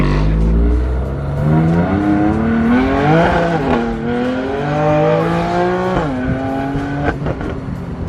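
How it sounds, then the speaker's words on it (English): A BMW M4 accelerates hard, its engine note climbing steeply through the gears with sharp shifts and rising revs, loud and close from inside the car, with no talking over it. "when I got in 3rd gear, that's when I started taking off"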